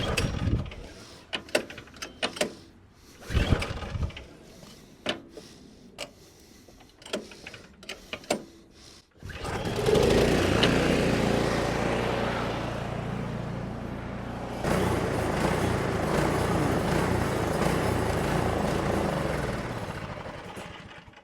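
A snowblower engine runs on a small half cup of ethanol-free fuel until it runs dry, with uneven sputtering bursts first, then a steadier buzzing run that shifts partway through.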